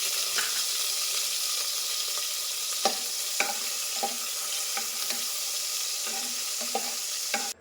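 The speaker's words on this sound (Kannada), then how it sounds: "ಮೊದಲನೇದಾಗಿ ಆಯಿಲ್ನ ಹಾಕ್ಕೊಂಡು ಅದರಲ್ಲಿ ನಾವು ಪನ್ನೀರ್ನ ಫ್ರೈ ಮಾಡ್ಕೋಬೇಕು." Paneer fries in hot groundnut oil with a bright, constant sizzle close to the pan, punctuated by frequent small pops and clatters. No voices are heard.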